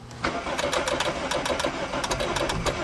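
Suzuki Swift engine starting for the first time: the starter cranks in a rapid, rhythmic chatter, then the engine catches and runs rough, loud and close.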